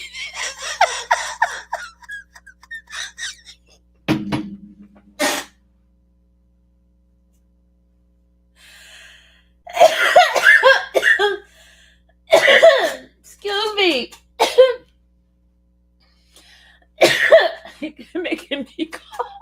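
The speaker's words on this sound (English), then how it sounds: "You're making me cough." A person coughs a couple of times in short harsh bursts early on, between stretches of close, excited talk, with laughter-like breaths scattered through the speech.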